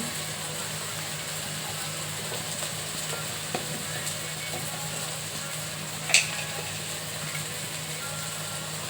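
Chopped tomato fries in oil in a pan for egg bhurji, a soft, steady sizzle with a low background hum and one brief sharp tick.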